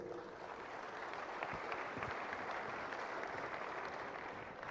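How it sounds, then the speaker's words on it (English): Audience at a UN peacekeeping ministerial meeting giving steady, distant applause, faint and even throughout, without any speech. "Please, another round of applause."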